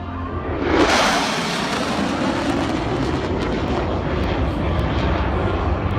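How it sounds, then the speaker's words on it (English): A jet races past a crowd at high speed, a loud roaring swell that peaks early and then trails into a broad, rumbling wash of engine noise. "This jet's flying by a crowd at high speed."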